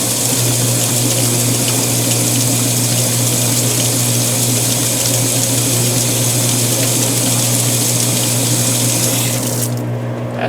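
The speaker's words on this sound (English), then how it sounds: "I'm going to let you see how long it adds the water here" Water pours steadily into a high-efficiency washing machine filling in auto mode, a loud, constant rushing flow with a low pump hum that stops abruptly near the end.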